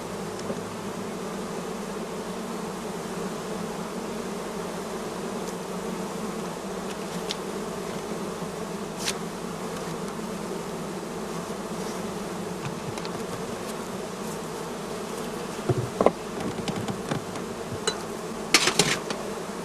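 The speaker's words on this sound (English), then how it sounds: "Next, we open the entrance holes and let the bees fly." Honeybees from a small nucleus colony buzz around a beehive, a steady drone at close range throughout, with a few sharp knocks and clicks near the end and no voices.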